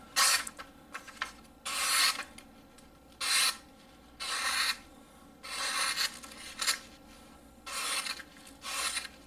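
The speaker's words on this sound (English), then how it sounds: "There's like no effort whatsoever in cutting this cord." A Zero Tolerance Hinderer 0393 KVT flipper knife slices through cord in a series of short, close rasping strokes separated by brief pauses, with no talking.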